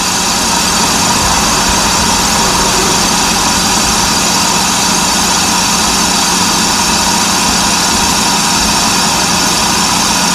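A lathe resurfaces an electric trailer brake drum, a loud continuous machine drone with dense broadband cutting noise, steady and unbroken throughout, close up with no voices.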